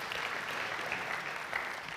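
A church congregation applauds in a sustained, even burst of clapping that fills the room for a couple of seconds.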